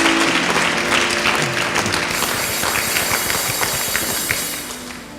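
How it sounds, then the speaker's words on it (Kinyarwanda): A church congregation applauding after a prayer, dense clapping that fills the room and gradually thins toward the end, with a low murmur of voices underneath. "Amashyi menshi cyane."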